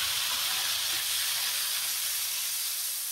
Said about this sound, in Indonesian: saya akan goreng teri yang sudah saya cuci dan saya beri jeruk nipis pemirsa, seperti ini.